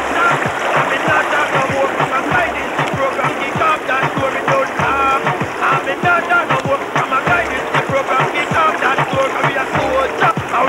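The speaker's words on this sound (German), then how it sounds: "und da kommt die nächste Stromschnelle." River rapids rush and splash around a raft, a loud continuous churning of water with choppy splashes throughout, while voices can be heard faintly under the noise.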